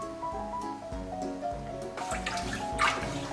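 Neon green hair dye pours into a container with a soft liquid gurgle and splash, heard close under background music.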